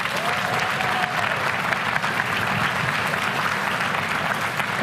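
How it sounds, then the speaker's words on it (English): A crowd at a national conservative conference gives a round of applause, a dense, even clapping that fills the whole stretch without voices on top. "Let's give this guy a round of applause."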